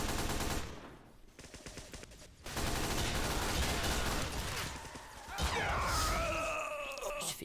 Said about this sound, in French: Je me suis fait tuer par un sniper.